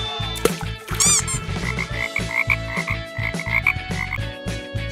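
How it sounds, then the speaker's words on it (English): A green frog croaks in a quick, steady series of throaty pulses, loud and close, over a bouncy background of music with a brief chirpy flourish near the start. "Green frog."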